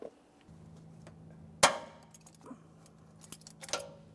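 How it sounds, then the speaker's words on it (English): Locking pliers are released and pulled off a part inside the wheel well of a 2001-2005 Ford Explorer Sport Trac during a front shock absorber replacement: one sharp metallic snap, then lighter clinks and taps close by. "Remove my locking pliers."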